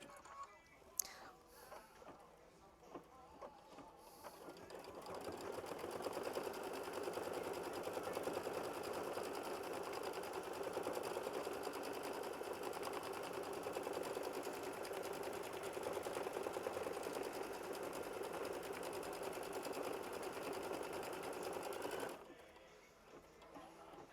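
Sewing machine quilting a flower bouquet fabric block starts with a few clicks, then runs in a fast, steady mechanical stitching whir for about seventeen seconds before stopping, close and fairly quiet.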